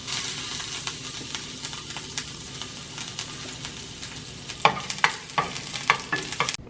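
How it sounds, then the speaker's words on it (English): Garlic fries in a pan and is stirred, with a steady soft sizzle under a run of loud, close scraping strokes from the utensil in the second half. "Next, I'm going to cook garlic."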